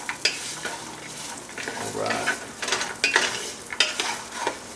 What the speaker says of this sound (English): So automatically you can hear the sesame seeds start sizzling.